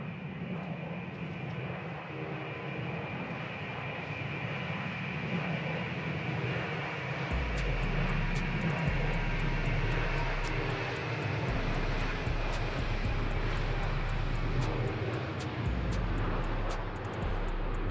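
A Toliss A330-900 airliner in X-Plane 12 lands hard, its steady engine roar joined partway through by a deep rumbling from the ground roll, with occasional sharp clicks over the continuous drone.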